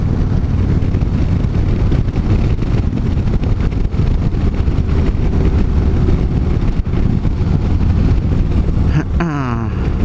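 Harley-Davidson Road Glide motorcycle ridden on a late evening ride, a steady loud engine drone and road rumble blended with constant wind buffeting on the microphone, with a brief change in pitch near the end.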